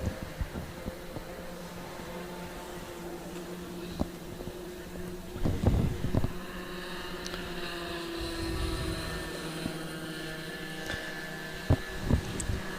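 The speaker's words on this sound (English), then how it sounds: "as you can probably hear the difference between the Comer engine and the Might E electric motor" Racing karts with Comer petrol engines and Mighty electric motors circulate at Nutts Corner Kart Circuit during the Irish Kart Grand Prix, a continuous engine whine and buzz with changing pitch as karts pass, moderately distant, with occasional louder bursts.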